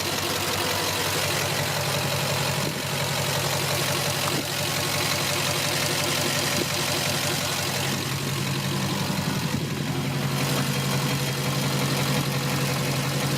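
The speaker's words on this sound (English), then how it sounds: "Off high idle we go." A Duramax diesel truck engine idles loudly and steadily at high idle, a constant rumbling drone with no voices.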